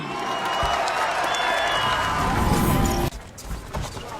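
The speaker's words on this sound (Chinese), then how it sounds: "掌声和呐喊" A crowd at a mixed martial arts fight applauds and shouts in a dense, loud roar that cuts off abruptly, leaving quieter background murmur.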